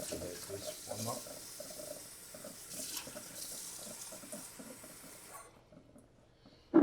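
Warm water runs from a faucet into a sink to mix a shoe shampoo solution, a steady hissing stream that continues for several seconds before stopping abruptly, followed by a brief clunk.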